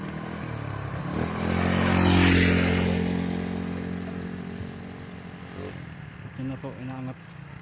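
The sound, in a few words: motorcycle climbing a steep road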